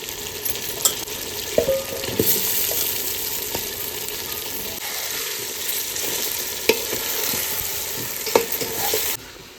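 Chicken biryani meat and potatoes sizzle in a pot while being stirred, a constant frying hiss marked by scattered clicks and knocks of a spoon against the pot, close and steady, without speech.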